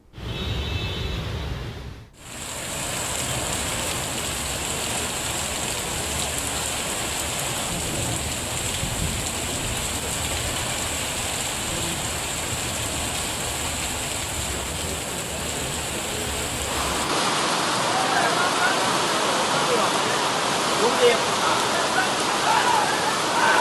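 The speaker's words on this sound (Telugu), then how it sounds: "ఈదురు గాలులతో కూడిన వర్షం పడుతోంది" Heavy rain roars steadily and loudly, its dense hiss swelling stronger toward the end as gusts seem to sweep through.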